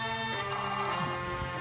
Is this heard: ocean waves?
no